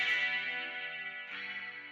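Clean, bright electric guitar with a glassy Strat-style single-coil tone, sustained chords ringing steadily, then a fresh strum near the end, with light chorus-like shimmer.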